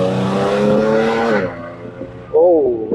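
An Audi S4 with a new cold air intake revs, its supercharger whining as the engine pitch rises, falls and climbs again in short bursts, close and fairly loud.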